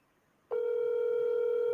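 Phone call ringback tone starts abruptly after a short quiet moment, then holds as a steady, clear electronic tone until the end.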